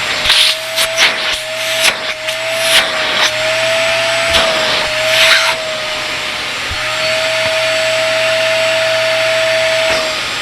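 A VEVOR 5.3 gallon, 1.6 peak HP wet/dry shop vacuum runs steadily nearby, a loud continuous motor whine with a few brief bumps and scrapes over it.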